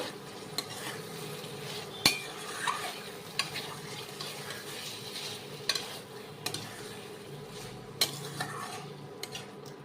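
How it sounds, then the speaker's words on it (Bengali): Spiced masala being stirred into eggs in a pan for egg shahi korma, a gentle, steady sizzle broken by scattered clinks and scrapes of a spoon against the pan, close and fairly quiet with no voices. "ডিমের সাথে মশলাটা ভালো করে মিশিয়ে নেব।"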